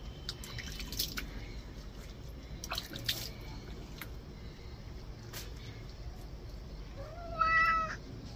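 A cat being bathed with water, meowing in a clear, drawn-out cry near the end, with dripping and splashing water and faint household noise throughout.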